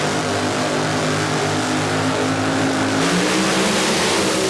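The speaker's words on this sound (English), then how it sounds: "Waz is a 550 race car over here on the left-hand side of the racetrack" A drag race car with a 550 engine makes its pass down the left lane at a Houston racetrack, a loud, steady engine roar filling the whole stretch and shifting pitch slightly partway through.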